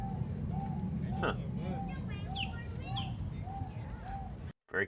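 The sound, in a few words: dove calling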